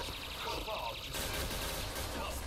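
P90 submachine gun fire in the online shooter Point Blank, a continuous rapid rattle of automatic shots throughout, loud and dense, over a steady game background with faint talk beneath.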